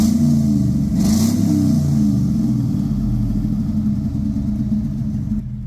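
A Chevrolet Tahoe engine runs steadily nearby, a low, even rumble with a faint rising rev early on, continuing without talk throughout.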